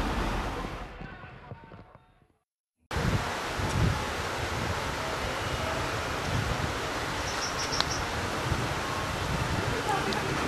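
Strong, hot April wind roars and buffets a microphone, with rustling throughout; the sound fades and cuts out briefly before resuming at full strength.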